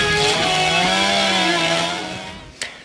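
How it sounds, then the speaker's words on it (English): A chainsaw whines loud and close as it cuts, its engine pitch wavering steadily for a few seconds before fading, then a short sharp knock near the end. "He made this video where he takes a chainsaw to the tax code"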